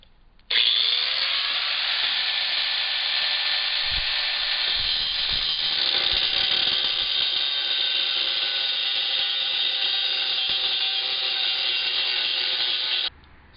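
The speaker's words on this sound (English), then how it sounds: "I'm going to cut a lot of this rust out and put strips back in its place." A power tool cuts rust out of a Jeep Grand Cherokee rear bumper, a loud, steady high-pitched whine starting abruptly and running continuously for about twelve seconds before stopping suddenly.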